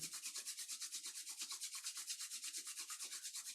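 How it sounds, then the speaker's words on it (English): Palms rubbed briskly together during a guided yoga session, a steady run of soft, rhythmic swishing strokes close to the listener, repeating evenly with no talking. "Rub the palms one more time."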